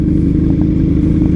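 A Kawasaki Z900 motorcycle engine with a fuel pump fault and acceleration problem, running loud and close with a steady low rumble and a faint periodic clatter.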